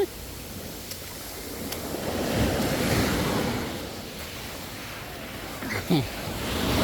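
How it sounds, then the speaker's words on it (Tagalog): Large sea waves wash onto a natural beach near Mataró outside Barcelona, a steady roar of surf with wind buffeting the microphone, while people talk nearby. "Ayaw, laki alon."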